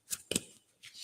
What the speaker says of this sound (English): Can you hear the shuffling?